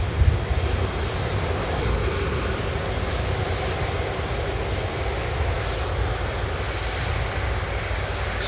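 An Eastern Airways aircraft lands at Manchester Airport in blustery wind, giving a steady, loud engine roar mixed with wind rumble on the microphone throughout, with no talking.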